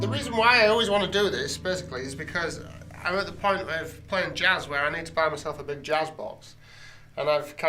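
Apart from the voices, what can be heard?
No everyday noises stand out.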